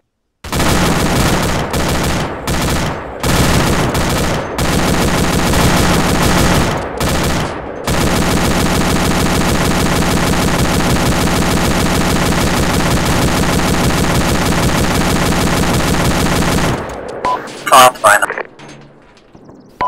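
Sustained heavy automatic gunfire in a base defense video game, loud and nearly unbroken, first in choppy bursts, then a long continuous stream, before ending abruptly with scattered lighter shots.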